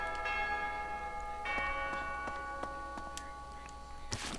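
A bell in the video game Fire Emblem: Three Houses rings twice with clear sustained tones, followed by light ticking and a brief noisy burst near the end.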